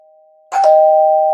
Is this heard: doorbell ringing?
yes